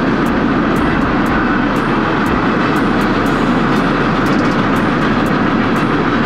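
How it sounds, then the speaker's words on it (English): A loud, continuous rumble of a passing train with steady low roar and occasional high metallic clicks and squeaks. "a freaking train wants to come"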